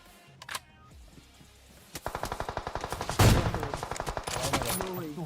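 Rapid automatic gunfire in the mobile battle-royale game PUBG Mobile, a steady string of sharp shots that grows louder midway and keeps going, with a brief voice near the start.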